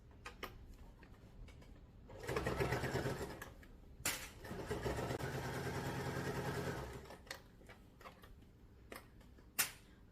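A sewing machine stitches fabric for a storage cube bag in two steady bursts of fast, whirring needle clatter, separated and followed by quiet ticks and clicks as the machine pauses and is adjusted.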